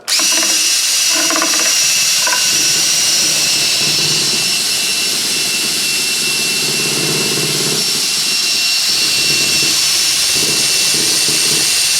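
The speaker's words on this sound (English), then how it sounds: "That's quite a drill you have there." A power drill with a mixing attachment runs loud and steady, stirring honey for mead, with its pitch shifting slightly as the load changes.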